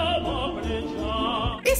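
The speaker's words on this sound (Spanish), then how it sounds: "una canción popular rusa llamada Korobeiniki" A short excerpt of a recording of the Russian folk song Korobeiniki, written by Nikolai Nekrasov, is heard as dense, full-band music that plays steadily before a brief brighter burst at the end.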